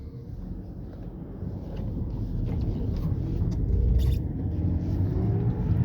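Manual-transmission car pulling away from a driveway and accelerating, a steady engine rumble that grows louder as the revs rise, with faint creaks and knocks from inside the cabin.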